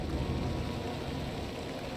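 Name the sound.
rain in a video game trailer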